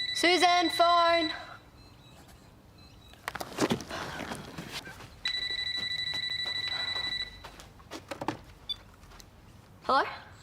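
An electronic telephone ring sounds in two separate bursts, with quiet shuffling, a few clatters and brief voices in between.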